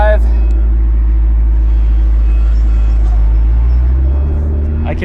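A McLaren sports car pulls away, its engine a loud, steady low drone heard from inside the cabin, with people talking over it.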